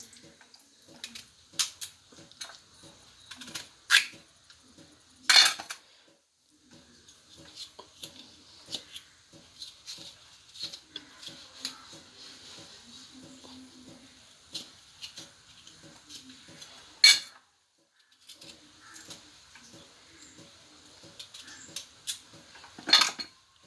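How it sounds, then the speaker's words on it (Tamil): A knife chops raw figs finely on a board, producing a long run of quick, irregular close taps and clicks with occasional louder knocks and brief pauses. "இப்படியே பொடியாக கட் பண்ணிக்க வேண்டியதான்"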